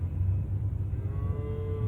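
Calves lowing at the Uzynagash livestock market near Almaty, a few drawn-out moos rising over a steady low rumble of market noise, with no talking.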